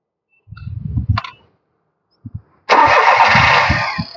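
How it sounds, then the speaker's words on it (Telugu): A 2016 Volkswagen Polo 1.2 petrol starter cranks briefly, pauses, gives a couple of clicks, then the engine catches and runs steadily and loudly up close. "బండి అయితే సింగిల్ సెల్ఫ్ లో స్టార్ట్ అయిందండి"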